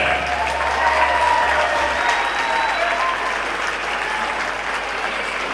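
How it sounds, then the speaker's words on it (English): Steady, loud applause from a crowd filling a high school gym at a basketball game, honoring the seniors of the Evanston High School pep band, sustained without break and with faint voices mixed in. "put your hands together for the seniors for your Evanston High School pep band"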